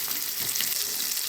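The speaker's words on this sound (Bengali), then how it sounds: "মাছের সাথে কুমড়োর বড়িগুলো ভেজে নেব।" Newly made sun-dried pumpkin lentil dumplings sizzle steadily in hot oil on low heat alongside fish, a continuous close frying hiss with no speech.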